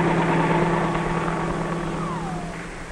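Helicopter engine and rotor drone, a steady loud hum with a constant low tone and a faint whine sliding downward near the end, no talk.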